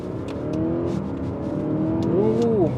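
An Audi SQ5 TDI accelerating hard to 60 mph, its engine note rising steadily in pitch and loudness from inside the cabin, with a gear change near the end.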